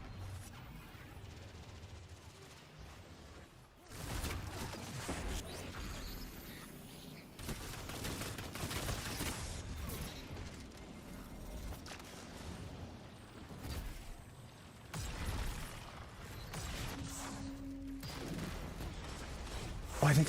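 Bursts of video game gunfire in Destiny during an Iron Banner match, rapid crashing shots in dense clusters with brief lulls, moderately loud over game noise.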